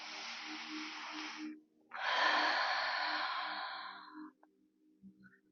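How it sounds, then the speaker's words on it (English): One big deep breath during a Pilates session, a long airy inhale followed after a short pause by a longer, fading exhale, close and clear with no talking. "One more big deep breath in"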